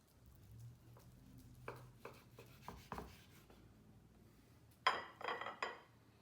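A knife slices through a chilled country-style pâté terrine, grandmother's pâté surrounded by fat, with a few soft scraping strokes followed by a louder cluster of rasping cuts near the end.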